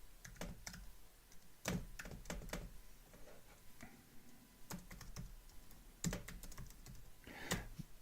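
Someone types on a computer keyboard in a quiet room, producing irregular bursts of sharp clicks and clacks, faint overall, with no voices.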